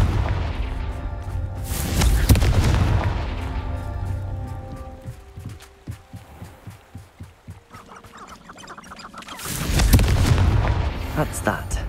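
A Confringo spell explosion in a video game lands as a loud booming blast, followed by crackling, popping debris and then a second heavy boom near the end, with a voice speaking faintly in between.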